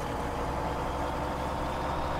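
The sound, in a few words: Kenworth logging truck engine idling, Farming Simulator 17 video game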